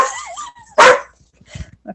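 A dog gives one sharp, loud bark up close, framed by faint whimpering and brief soft noises in an indoor setting.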